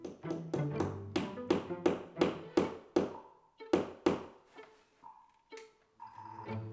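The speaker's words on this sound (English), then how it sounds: "After measuring the width of the corkboard, I tried nailing it in using the butt of my screwdriver." Screwdriver butt hammering a nail into corkboard for wall decor: a run of about a dozen sharp, loud knocks in quick rhythm, then a few spaced, ringing hits with pauses between.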